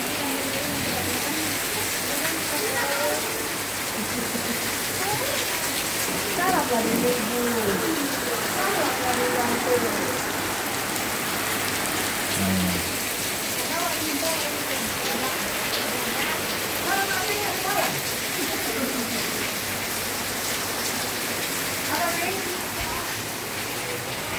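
Steady heavy rain pours down throughout, a dense close wash of drops on surfaces with no letup, while faint indistinct voices sit underneath.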